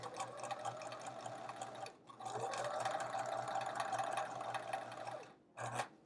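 A sewing machine stitches quilt block pieces in a fast, even whir that runs close and steady, stops briefly, resumes for several seconds, then ends with a short final burst, with no talking.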